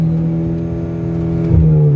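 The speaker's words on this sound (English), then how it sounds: "See how you can rev it up to 5k and stop?" A worn turbocharged car revved while parked: a loud, close, steady engine drone holding high revs, then a brief surge and shift in pitch near the end.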